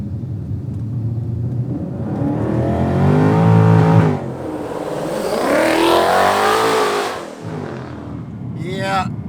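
A turbocharged stock Ford Mustang accelerates hard in two loud surges, the engine note rising and falling with a rumbling exhaust; a person speaks over the first pull.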